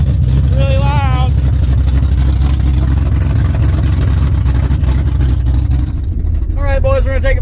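A Lightning truck engine running with open headers and a faulty O2 sensor roars loud and steady throughout, droning close by without letup, while a voice briefly speaks over it near the start and again near the end.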